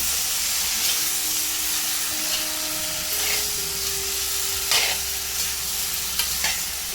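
Loud, continuous sizzling of tomato masala in a pan while a spoon stirs and scrapes, with occasional sharper clinks, close by and steady throughout.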